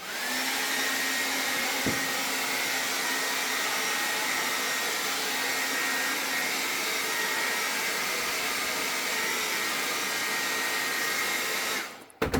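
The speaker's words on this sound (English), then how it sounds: "I take a hair dryer" A hair dryer drying carved feathers blows steadily and loudly, a continuous whooshing roar with a high whine, cutting off abruptly at the very end.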